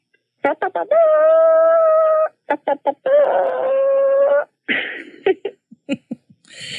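A person imitates a chicken with clucking bursts and drawn-out trumpet-like calls, loud and close, with a short snippet of talk near the end.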